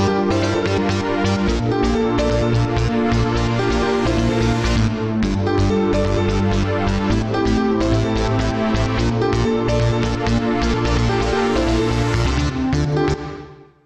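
Electronic dance music for the video game Penguin Adventure, built from a pad, a high step sequence and a riff, plays loud and dense with a steady driving pulse for about thirteen seconds before cutting off.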